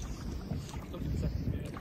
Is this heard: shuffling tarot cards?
no